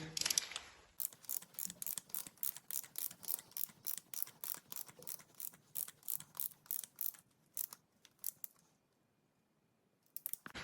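A torque wrench ratchet clicks repeatedly in quick, even strokes while tightening the idler pulley bolt on a VW Passat B5.5 1.9 TDI, crisp and close, then falls silent before a final click.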